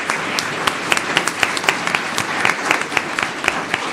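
Steady, dense applause from a school governing board meeting audience honoring winning students, many hands clapping close and evenly for the whole stretch.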